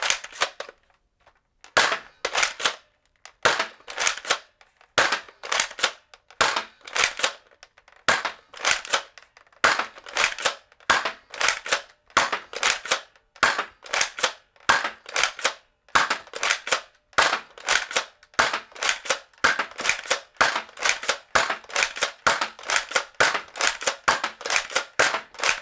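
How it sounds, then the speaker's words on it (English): A Zuru X-Shot Turbo Fire dart blaster is primed and fired over and over in a long rapid run, sharp loud plastic snaps and clacks in a fast, fairly regular rhythm with a short pause near the start. "I just wanted to see how fast I could pull the trigger and prime it"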